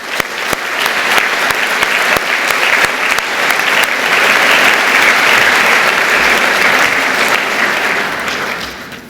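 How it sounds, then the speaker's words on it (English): A large graduation ceremony audience applauds families and supporters, loud sustained clapping with a few crisp hand claps standing out near the start, holding steady for several seconds before tapering slightly at the end. "Let's give them a round of applause too"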